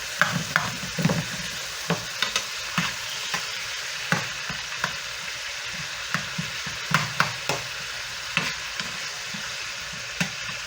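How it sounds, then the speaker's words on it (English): Jalapenos are stirred into a pan of sizzling vegetables, a constant close frying hiss punctuated by regular scraping knocks of the spoon against the pan. "Stir this up a little bit."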